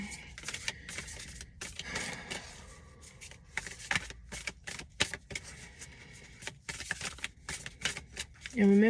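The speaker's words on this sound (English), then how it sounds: "I'm going to pull a card from this deck to see who is this message for" A deck of cards is shuffled and drawn from up close, producing a string of crisp, papery riffling and flicking bursts separated by short pauses, ending with a brief steady tone.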